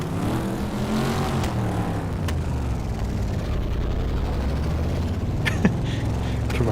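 A historic Camaro racing car engine in the rFactor racing game drones and revs steadily as the car slides sideways out of its pit box, its pitch shifting as it pulls away, with a few sharp clicks near the end.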